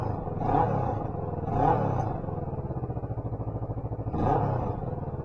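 Kawasaki Vulcan S motorcycle engine with a modified, drilled exhaust idling with a steady throbbing lope, punctuated by three short throttle blips, close and loud with no talk.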